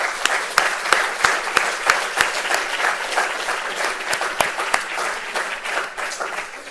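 Applause from a conference audience at a young auditors' gathering, a dense steady clapping with several sharper individual claps standing out, moderately loud and continuous throughout.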